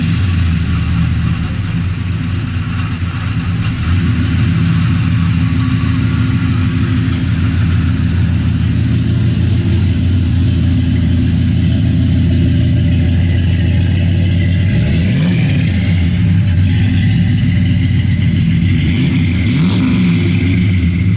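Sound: 1971 Chevrolet Super Cheyenne 4x4 truck engine running

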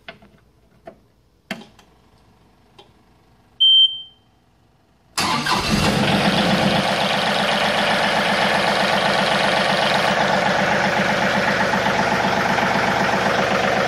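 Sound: John Deere 2032R compact tractor engine starting and idling

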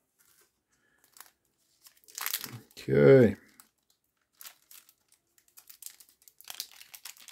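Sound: cutting a sealed package with scissors

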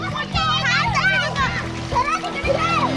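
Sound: children splashing and dunking each other in a swimming pool

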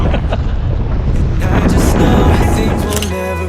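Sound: strong wind blowing into the microphone

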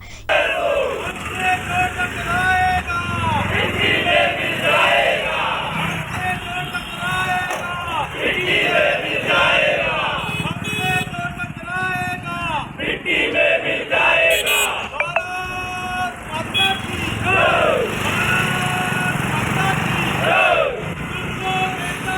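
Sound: crowd loudly chanting slogans celebrating Operation Sindoor

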